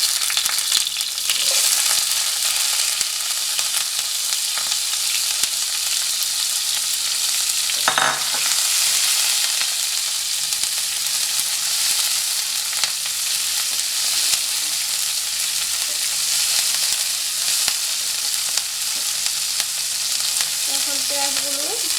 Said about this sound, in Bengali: এবার আমি পেঁয়াজ আর মরিচগুলো দিয়ে দিচ্ছি।